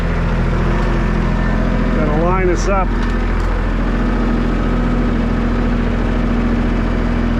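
A tractor engine idles and rumbles steadily nearby while its bucket floats along covering potatoes in a field, a constant low drone with someone briefly talking over it.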